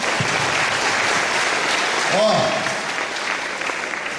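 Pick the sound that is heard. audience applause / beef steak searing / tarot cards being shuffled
audience applause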